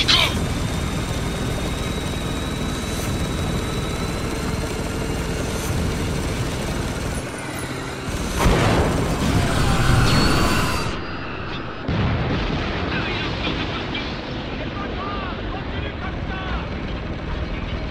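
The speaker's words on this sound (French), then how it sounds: "C'est censé aller aussi vite un hélico?" A helicopter goes down in the video game Spec Ops: The Line, a loud, dense roar of rotor and engine noise with a booming surge midway, continuous over eighteen seconds of heavy action audio.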